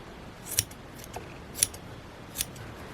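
Scissors snip three times at crocheted yarn loops of a thistle flower, each a quiet, crisp metallic cut spaced about a second apart over a faint background hiss.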